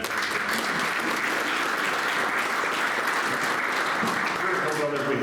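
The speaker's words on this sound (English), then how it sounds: "let's take a round of applause real quick to thank them" Steady, dense applause from a crowd at a company meeting, clapping continuously at an even loudness throughout with no pauses.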